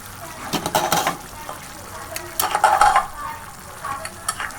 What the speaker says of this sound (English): Mix the vegetables well.